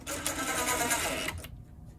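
A power driver drives screws to attach an amp into an OutRun arcade cabinet, a steady whirring buzz for over a second before stopping abruptly, fairly close.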